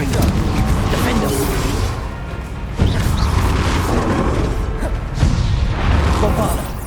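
Bombarda spell explosions in a magic-duelling video game, heavy booming blasts bursting in quick succession amid dense crackling game noise and a voice shouting spell names.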